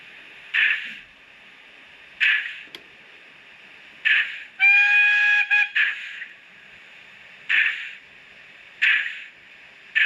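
Sound-equipped Accurascale Pannier tank model locomotive giving a series of short, evenly spaced whistle-like bursts, with one longer shrill tone midway, loud and clear over a quiet background.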